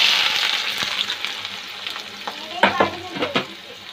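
Onion turning pink fries in a pan with a bright, steady sizzle, broken by several close scraping and clattering stirs that grow louder near the end.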